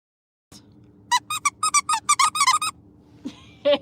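A dog's squeaky toy squeaks in a quick burst of about ten sharp, loud squeezes, then two more after a short pause, near and clear with no talking.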